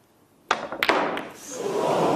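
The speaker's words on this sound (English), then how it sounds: "The blue jumped out of the pocket." A snooker ball striking the pocket and jumping back out: a sharp knock followed by a few quick clattering rattles, then the murmur of a crowd reacting.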